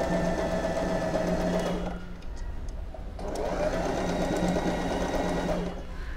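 Usha Wonder Stitch sewing machine stitching fabric, a steady fast mechanical whirr and rattle running in two bursts with a short pause between them, loud and close with no talk.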